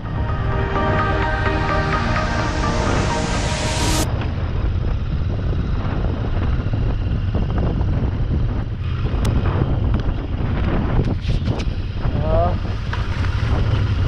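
A heavy 200 kg Royal Enfield Continental GT 650 motorcycle rides along a rough village road. Its engine note climbs at first, then is largely buried under strong wind buffeting on the microphone.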